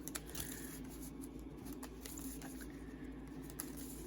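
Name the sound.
shuffling a deck of Yu-Gi-Oh! cards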